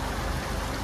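A small Himalayan waterfall stream in Ladakh flows in a steady, continuous wash of running water, close and even with no pauses or voices.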